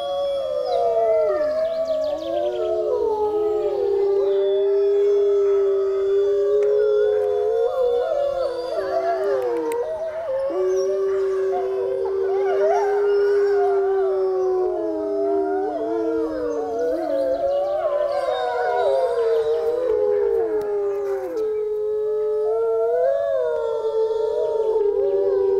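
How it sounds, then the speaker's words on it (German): Dogs and young wolves at a wolf center howl in chorus, many overlapping voices rising and wavering without pause, loud and close throughout. "Jetzt stehen die jungen Wölfe auf und fangen mit an."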